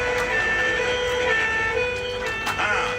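A fire brigade truck arrives with its siren wailing, a fairly close rising and falling tone over road noise, while people talk nearby.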